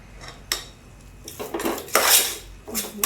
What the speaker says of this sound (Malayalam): നന്നായിട്ട് നമുക്കൊന്ന് ഇളക്കിയെടുക്കാം.